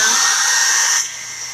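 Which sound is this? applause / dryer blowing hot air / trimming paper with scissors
dryer blowing hot air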